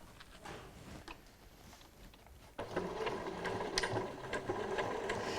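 A sewing machine stitches cushion piping close to the cord, a faint whirring run that grows steadier and louder halfway through, continuous rapid needle patter.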